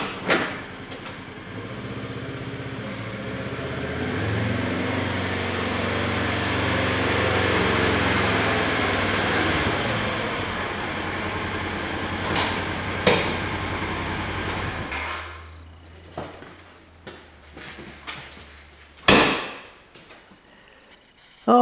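A Polaris Ranger 900 UTV with a new steering wheel drives off, its engine drone rising and holding steady for about fifteen seconds, then dropping to a low idle with scattered clunks and rattles.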